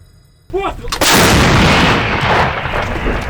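After a moment of quiet and a brief voice, a single M37 artillery cannon fires with a loud, close boom that rolls on in a long, rumbling echo.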